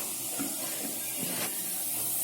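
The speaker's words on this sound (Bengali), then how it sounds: "তিনটে করে ভাজছি" Thekua fry in oil three at a time over low to medium heat, giving a soft, steady sizzling hiss that stays faint and continuous, with a few small pops.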